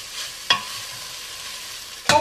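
Tofu and onions frying in a pan over fairly high heat, a faint continuous sizzle broken by two sharp scraping stirs of the pan.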